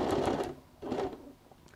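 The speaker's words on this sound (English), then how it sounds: "just go and sew an edge stitch" A sewing machine runs an edge stitch along bias tape in two short bursts of rapid, close mechanical whirring with a brief pause between them, and no talking.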